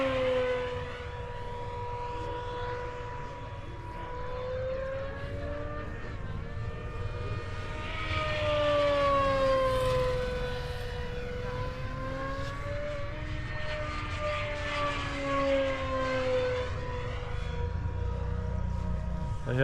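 Radio-controlled model airplanes flying at an RC fly-in at Hodges, with a steady, moderately loud engine whine that rises and falls in pitch as a plane sweeps past, over constant background noise of the outdoor field.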